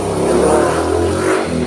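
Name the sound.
motorcycle engine revving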